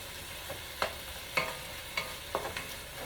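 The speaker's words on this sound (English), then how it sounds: "I'm just going ahead and heating up my smoked sausage, cooking that down" Smoked sausage heating in a pan for seafood paella: a soft background sizzle broken by several clear scraping clicks of a utensil stirring, close and fairly quiet, with no talking.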